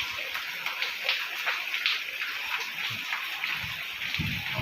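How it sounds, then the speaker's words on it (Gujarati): Heavy rain at night pours down as a continuous broad rushing hiss with scattered splashy patter, steady and fairly loud, with no voices. "ભૂકા કાઢે વરસાદ."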